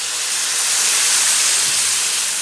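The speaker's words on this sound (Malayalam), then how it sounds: "എന്നിട്ട് അതിലേക്ക് ഞാൻ ഈ വെള്ളം, ഒരു ചൂടുവെള്ളം ചേർക്കാൻ പോകാം." Hot water poured into a pan of sizzling masala for a breadfruit curry sends up a loud, steady rush of steam and hiss that lasts the whole stretch without a break.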